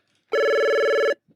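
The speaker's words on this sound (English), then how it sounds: "phone's ringing." A single electronic telephone ring sounds loud and close for just under a second, a steady harmonic trill that stops abruptly, with a brief faint noise just after.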